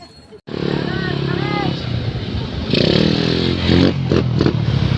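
Motorcycles pass along a mountain road near a viewing deck, engines revving and rattling loudly up close with clattering bursts, while people talk over them.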